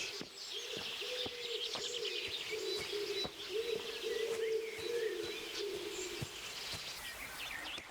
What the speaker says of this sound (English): Let's skip the night and listen to some birds.